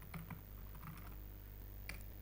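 Quiet computer keyboard typing, a few soft bursts of key clicks over a steady low hum.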